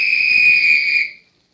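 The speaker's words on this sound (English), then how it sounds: "there's the referee's whistle for the end of the first half" A referee's whistle in a radio drama football game, blowing one long steady shrill blast for the end of the first half, loud and alone before cutting off cleanly.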